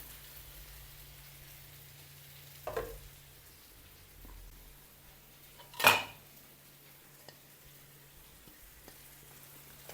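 A metal lid clanks down onto a pan of cooking chicken curry with a short ringing clatter, after a softer knock a few seconds earlier, over a low steady hum.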